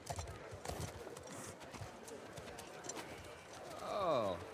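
Horse in The Last of Us Part II: soft hoof clip-clops under ambient game sound, ending in a loud, close whinny with a falling neigh.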